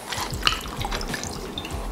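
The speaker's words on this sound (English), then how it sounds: "You open up your bottle of tequila and then you" Tequila glugs and splashes from a bottle in a kitchen, a short run of wet, bubbling pours and drips, close and moderately loud.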